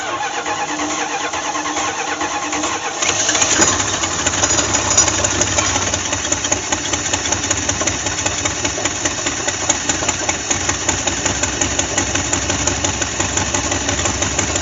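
An old square-body truck engine that sat in a barn for over 20 years cranks and catches, then settles into a steady, slightly knocking idle that runs on alone and close.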